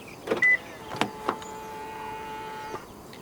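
Locking a 2017 Toyota Alphard 2.5 2WD by touching the front door handle sensor: a couple of short clicks and beeps, then a steady electronic hum with thin tonal lines that holds for over a second before cutting off with a final click.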